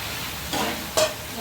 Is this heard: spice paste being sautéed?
yes